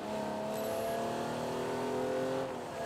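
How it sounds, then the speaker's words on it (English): A car engine in the Fortnite video game, with a Mustang-like character, revs steadily and throatily for a few seconds, loud and close with no talking. "this sounds like a Mustang"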